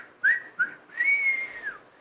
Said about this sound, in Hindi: साइंटिस्ट लोगों ने सीटी बजाई